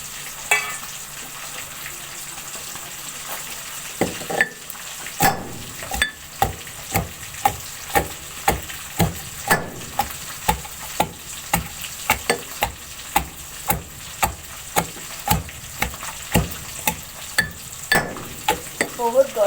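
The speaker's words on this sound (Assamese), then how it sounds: "মই এতিয়া মাছ ভাজি" Rohu fish frying in hot oil for an Assamese elephant apple fish curry, a steady sizzle punctuated by frequent sharp scrapes and clacks of stirring, close and loud with no talk.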